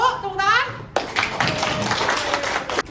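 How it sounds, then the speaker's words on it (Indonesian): A classroom of high school students clapping for a presenting group in a sociology lesson, a short burst of many hands following a teacher's voice, lively and fairly close, with children's chatter mixed in. "kelompok 1, tepuk tangan"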